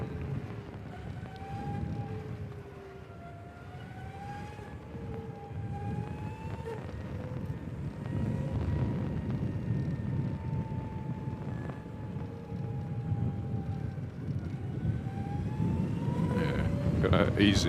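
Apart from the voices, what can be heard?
ZAPP EV i300 electric motorcycle climbing a test hill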